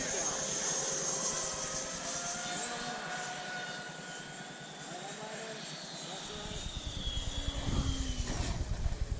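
A Freewing F-14 Tomcat twin 64mm EDF radio-controlled jet passes at an RC flying field, its steady turbine-like whine rising and falling as it flies left to right, with people talking nearby throughout.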